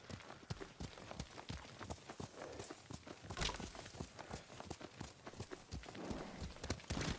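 Rapid, steady hoofbeats of a galloping horse in the video game Ghost of Tsushima, close and loud, with a rhythmic clatter throughout and a faint voice briefly underneath.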